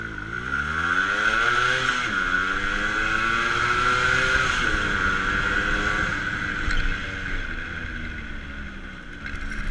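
A Yamaha RX135 two-stroke motorcycle accelerates hard through the gears, its buzzing engine note climbing, dropping at each shift and rising again, loud and close with no speech.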